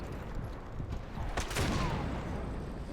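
Dense, rapid gunfire rattles through a dive during a shoot dodge in the video game Max Payne 3, loud and continuous with a whooshing slow-motion sweep in the middle.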